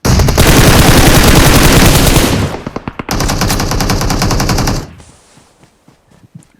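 Machine gun fire in the BGMI battle game, loud sustained automatic bursts, a second long burst after a brief gap, then scattered fainter shots.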